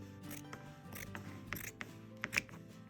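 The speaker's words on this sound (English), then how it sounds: "take a piece of fabric, cut it off the bolt" Scissors cutting a piece of thick white cotton fabric off the bolt, a faint close sequence of short snips and soft rustles at an uneven rhythm, with no talking.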